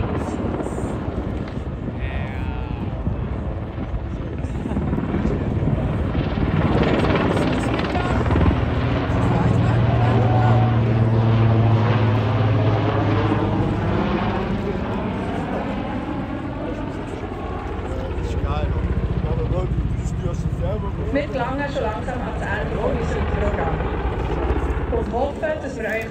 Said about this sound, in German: Sobald der Heli stillsteht, wird er auf die Nase gestellt und in einer steilen Spirale in Richtung Boden geflogen.